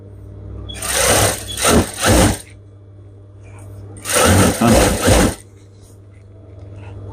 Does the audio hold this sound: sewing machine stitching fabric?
yes